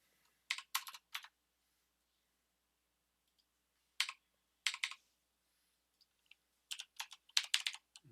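Keys on a computer keyboard's worn, failing numpad are tapped in short bursts of quick clicks, separated by silent pauses, close and fairly quiet with no speech.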